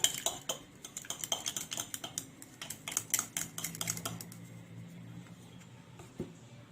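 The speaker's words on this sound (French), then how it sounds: "je vais renverser mon sucre en poudre petit à petit avec une fourchette" A fork beats eggs and powdered sugar in a glass salad bowl, giving rapid, close clinking taps against the bowl that run steadily, then thin out into a few scattered knocks near the end.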